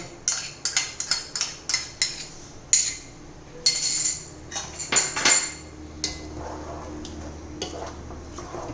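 A metal spoon clinks and scrapes repeatedly against a pan as curd is mixed into avial off the heat, with quick rhythmic strokes that slow and soften toward the end.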